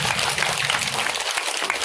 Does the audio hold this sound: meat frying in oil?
no